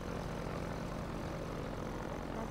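A hovercraft engine in Garry's Mod drones steadily with a propeller-like buzz, a constant loud hum that runs without a break and without any voices.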